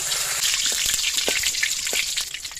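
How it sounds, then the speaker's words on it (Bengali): Whole garam masala and bay leaves crackling in hot mustard oil, a steady close sizzle with scattered spits and pops throughout. "এই তেলের মধ্যে আর একটু সর্ষের তেল দিয়ে দেবো, দিয়ে দেবো গোটা গরম মশলা,"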